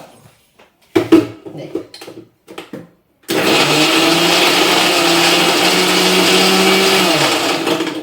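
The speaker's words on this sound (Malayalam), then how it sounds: "ഇവനെ നന്നായിട്ടൊന്ന് അടിച്ചെടുക്കുവാണ് കേട്ടോ" A kitchen mixer grinder whirs loudly and steadily while blending a drink with ice cubes, starting abruptly after a few brief knocks and handling sounds, then running continuously at close range with a slight pitch shift near the end.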